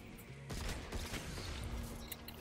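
Rapid bursts of gunfire crackle from a video game, dense and continuous for a couple of seconds with sharp repeated shots.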